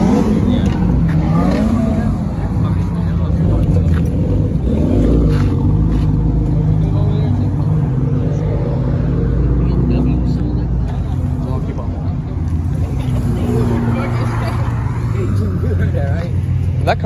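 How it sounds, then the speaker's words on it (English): Turbocharged V8 Chevrolet Camaro engines rumble at a car meet, a loud, continuous low growl with rising revs and passing vehicles, while people talk over the engine noise throughout. "That Camaro turbocharged V8."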